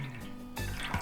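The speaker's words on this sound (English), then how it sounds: "So now I'm just going to pour the turmeric and the water." Turmeric dye powder mixed with water is poured out in a short, close splash of running liquid that swells near the end, with no talking.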